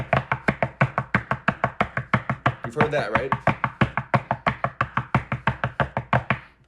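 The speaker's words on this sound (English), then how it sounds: "For anyone who doesn't know what a skank beat is, it sounds kind of like this." A fast, steady skank beat from a thrash drum kit, with rapidly alternating hits that run evenly and loudly for several seconds, plus a brief fill in the middle and a short spoken question at the end.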